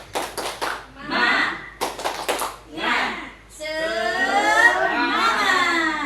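Group clapping in unison at an Indonesian teacher training session, sharp rhythmic bursts of claps in short patterns, then a sustained chorus of voices cheering together.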